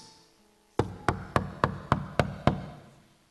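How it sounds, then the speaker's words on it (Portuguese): A prophet knocks at the door of a house: seven sharp, evenly spaced knocks on wood ring out close and clear, alone, with a quiet pause before them and a soft fading tail after. "O profeta bate na porta da casa de Ezequias."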